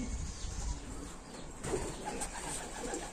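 Pigeons in a loft, soft low cooing close by over a quiet, hissy background, a few faint coos spread across the stretch with no talk.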